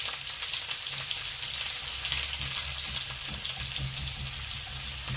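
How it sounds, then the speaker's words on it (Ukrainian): Chopped onion sizzles and bubbles steadily in well-heated cooking oil while pea soup is being made, a continuous close frying hiss with low bubbling underneath and no voices. "Отак, відразу починає булькати і смажитись."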